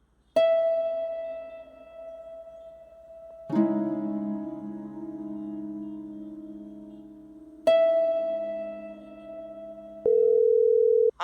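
A telephone call goes unanswered, its steady tone-like ringback pattern repeating in clear, loud bursts with short gaps, ending on a different lower tone, with no voices.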